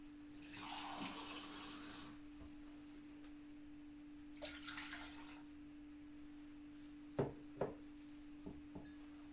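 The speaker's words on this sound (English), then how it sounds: "Put a cup of water into the pot." Water pours in two short bursts, then a few soft knocks and clinks follow, over a steady low hum, with no voices.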